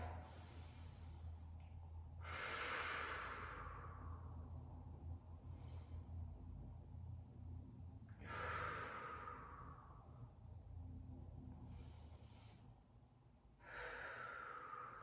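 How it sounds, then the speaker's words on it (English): Slow, deep breaths during a yoga session, two strong airy exhales several seconds apart with softer breaths between, close and clear over a low steady room hum. "we just take a big breath in and out"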